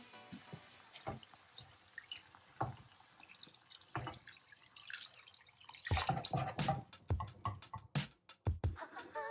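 Cold water pours and splashes into a pot of chicken, starting as scattered drips and turning into louder, choppy bursts of pouring toward the end.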